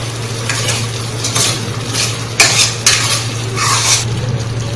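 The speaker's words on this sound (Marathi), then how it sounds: "त्या गोळ्याला मस्त असं हलवायचं, त्याला थोडा होऊ द्यायचा" A ball of spiced ground dough is stirred in a pan for a bottle gourd curry, with steady soft sizzling under a few scraping strokes and two sharper utensil knocks against the metal.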